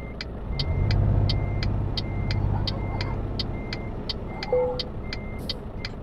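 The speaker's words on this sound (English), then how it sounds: "And I will just let the truck coast at 2 kilometers an hour." A truck in a driving game rolls slowly backward in reverse gear with its hazard lights on, a low steady engine hum under a regular series of evenly spaced, high-pitched reversing beeps, with no one talking.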